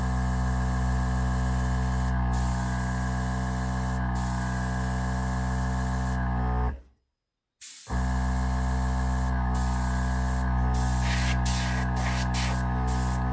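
A Gaahleri Turbo X compressor drives an airbrush fitted with a 0.35 nozzle, producing a loud, continuous spray hiss that cuts out for about a second, then resumes with a few faint clicks, and no voice is heard.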